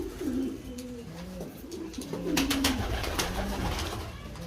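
Pigeons coo in a breeding loft, several soft, low, rolling calls repeating and overlapping over a background of rustling and fluttering, with no speech.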